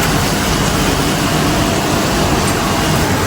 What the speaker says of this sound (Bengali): এসির কি সাউন্ড